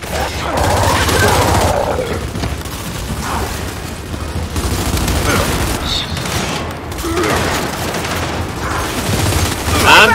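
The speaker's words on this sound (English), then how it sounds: "I'm just shooting all over the place!" Sustained gunfire from a Gears 5 firefight on Insane difficulty, with dense, overlapping rifle bursts and heavy impacts running almost continuously, loud and close, under occasional voices.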